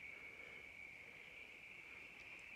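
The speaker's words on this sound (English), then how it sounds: "Here are all the frogs in my pond." Frogs in a garden pond at night in Tasmania, a dense continuous high-pitched chorus of calls, steady and moderately faint with no talking.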